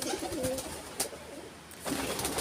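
Pigeons coo softly inside their loft, a few low, throaty calls heard at a moderate distance with a steady faint background hum.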